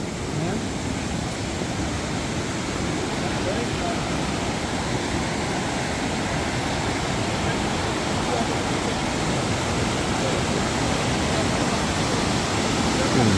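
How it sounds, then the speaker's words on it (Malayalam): Urulikuzhi waterfall in a forest roars as a constant broadband rush of falling water, steady and fairly close, with no break for the whole clip. "അപ്പോൾ ഇതാണ് ഉരുളിക്കുഴി വാട്ടർഫോൾസ്."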